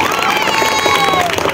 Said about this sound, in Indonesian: Tepuk tangan untuk kelas 7 kita.